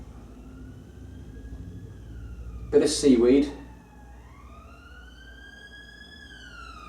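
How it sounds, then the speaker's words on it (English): Sirens wail and sweep up and down in pitch across the clip in a city centre, fairly distant, with a short burst of speech partway through. "Apologies for the sirens that you can hear."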